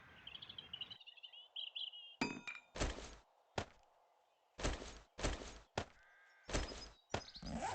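Heavy stone sledgehammer swings in 7 Days To Die land as a run of loud, close thunks and whacks in uneven bursts, with a brief whoosh before each one and short gaps of silence between.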